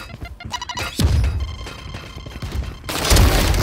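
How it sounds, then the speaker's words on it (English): Grenade blast in the shooter game Valorant, a loud booming crash that hits around the one-second mark and lingers, followed by more thuds and a second heavy burst near the end amid game effects. "Grenade!"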